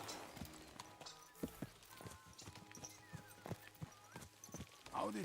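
Horse hooves clip-clop in a quick, fairly regular rhythm on a road in Kingdom Come: Deliverance 2, moderately close, with a brief whinny near the end.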